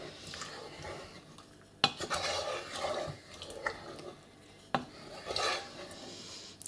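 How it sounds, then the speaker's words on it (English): Spoon scraping and clinking in a pot of sweet potato and coconut soup, irregular stirring strokes with a few sharp knocks against the metal, close and moderately loud with no talk. "Now we just stir this up together just to make sure that it's kind of mixed into the cooking sauce."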